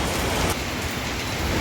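Heavy monsoon rain pouring down in Panvel, a dense, loud, unbroken hiss of rainfall filling the whole moment without pause, no voices.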